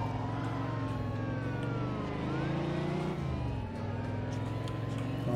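A heavy car's engine revs hard and steadily in The Betrayal of Jimmy, its harmonic drone rising and dipping across several seconds, loud and continuous with no speech over it.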